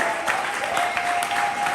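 Audience applause at a poetry slam, a steady broadband wash of clapping for a poet, even and sustained throughout with a faint tone running beneath it.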